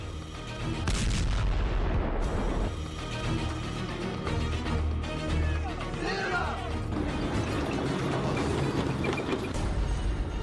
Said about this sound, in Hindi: खार्किव में रूस की भीषण बमबारी।